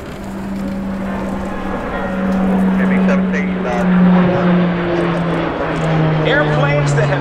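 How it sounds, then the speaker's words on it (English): Military airplanes flying directly overhead at an air show, a steady, loud engine drone that swells and shifts in pitch as they pass, with an announcer talking over it. "we're going to welcome four airplanes to get things started"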